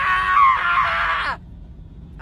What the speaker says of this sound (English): this is my scream 4 months on testosterone